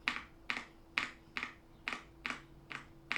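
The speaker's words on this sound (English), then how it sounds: "When I press the Windows key," Key presses on a Womier K80 keyboard, seven crisp evenly spaced clacks about half a second apart, close and clear in a quiet room.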